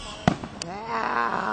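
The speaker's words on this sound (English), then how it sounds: "You like the fireworks, Logan?" A sharp pop followed by a second crack, then a fizzing, crackling tail that lingers, like fireworks bursting at a moderate distance.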